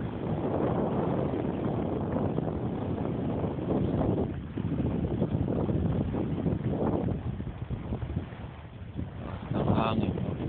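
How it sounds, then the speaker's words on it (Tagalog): Strong wind blows by the sea, buffeting the microphone in a continuous loud roar with gusts that rise and fall throughout. "Hangin,"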